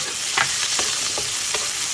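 Onion sizzles in hot olive oil in a wok as it is stirred, a steady bright hiss with a few scraping strokes over it, close and alone.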